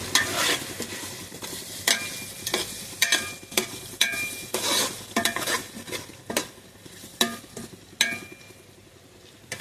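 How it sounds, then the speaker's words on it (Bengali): Shrimp bhuna stir-fried in a pan, giving a steady oily sizzle broken by repeated sharp scrapes and clinks of a spatula against the metal, close and fairly loud with no talking. "আসসালামু আলাইকুম বন্ধুরা, চিংড়ি মাছ ভুনা করতেছি।"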